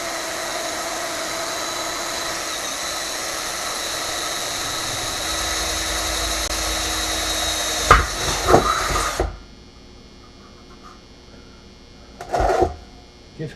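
A long steady mechanical whine of a power drill drilling drain holes in a satellite dish, then a few short knocks and a brief second burst after it stops.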